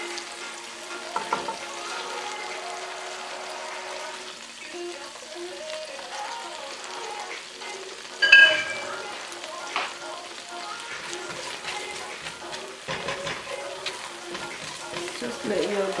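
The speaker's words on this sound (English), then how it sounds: "Just let your garlic brown." Garlic browning in a pan for karahi chicken thighs, with a steady low sizzle throughout, a brief sharper clatter near the middle, and occasional stirring sounds, fairly quiet overall.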